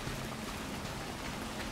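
Steady rain in the survival game Soulmask, a dense, even hiss of falling drops with no pauses or voices, moderately loud and continuous.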